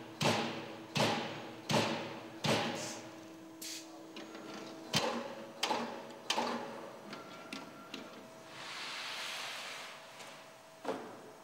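A Boschert CP-series CNC punching machine works a metal sheet automatically, giving a series of sharp, evenly paced punching thumps, then quieter mechanical clicks and a brief whirring movement before a final strike, close and with no talk.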